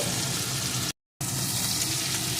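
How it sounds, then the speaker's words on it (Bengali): Chopped tomato and slit green chilies fry in hot oil, a dense, loud, continuous sizzle with a brief cut to silence partway through. "টমেটো কুচি আর চার পাঁচটা চেরা কাঁচা লঙ্কা এটাকেও একটু ভেজে দেব"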